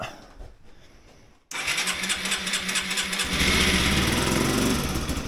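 A Yamaha SR125 motorcycle from a cheap barn-find project cranks on choke: a quiet lead-in, then the starter churns loudly in rapid pulses and the engine briefly catches and roughens before the end.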